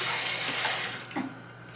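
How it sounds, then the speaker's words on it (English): Liquid squeezed from grated cassava pours and splashes steadily, close and fairly loud, then tapers off to a few faint drips after about a second. "So that's why we need to squeeze out as much of the liquid as we can get."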